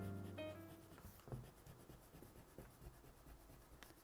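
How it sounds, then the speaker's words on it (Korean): A rubber eraser scrubbing pencil lines off a drawing on paper: soft, close, continuous rubbing strokes at low volume, with no talking. "살짝 지워줄게요."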